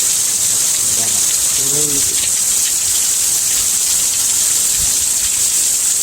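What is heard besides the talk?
heavy rainstorm in Oregon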